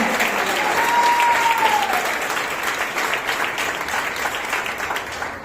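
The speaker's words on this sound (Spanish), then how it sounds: "Aplauda a Dios en esta mañana y déle la gloria a Él." A church congregation claps together during a morning worship service, a loud, continuous wash of applause that holds steady and slowly tapers near the end.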